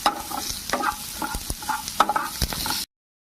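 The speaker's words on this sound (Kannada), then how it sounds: "ಇದು ನೀಟಾಗಿ ಬ್ರೌನ್ ಕಲರ್ ಆಗೋವರೆಗೂ ಫ್ರೈ ಮಾಡಿಕೊಂಡ್ರೆ ಸಾಕು." Cumin seeds and pepper powder frying and being stirred in a pan for a village-style greens bassaru, a steady close sizzle with scraping stir strokes, no talk.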